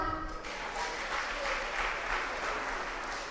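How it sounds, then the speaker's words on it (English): An audience at a children's podium speaking contest in Gambia applauds a contestant, with dense, steady clapping from a crowd in a hall, moderately distant and continuous throughout. "Please clap for her."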